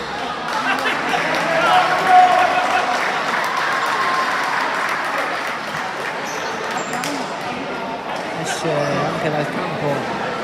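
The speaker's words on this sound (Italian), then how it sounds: "Capitan Marretta accompagnato dagli applausi dei sostenitori rosanero" Palermo supporters clap at a futsal match, a sustained wash of applause and crowd noise running under continuous commentator talk.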